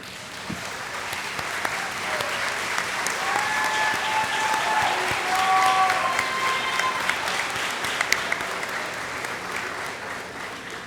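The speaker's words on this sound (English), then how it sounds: "Graduates, please stand and give your parents, grandparents, brothers and sisters, aunts and uncles, spouses, children, and other loved ones a big round of applause." A large commencement audience of graduates and guests applauds steadily and loudly for about eleven seconds, a dense, sustained wash of clapping with a few faint voices and whistles mixed in.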